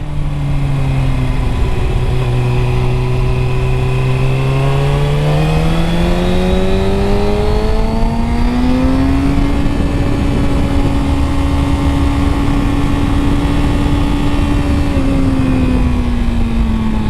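A 2009 Kawasaki ZX6R motorcycle accelerates hard on a highway, its engine note climbing steadily through the gears with loud rising whine and a shift near the middle, under constant heavy wind rush, with no talking.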